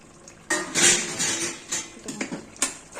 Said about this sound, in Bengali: ঢাকনাটা তুলে দেখাচ্ছি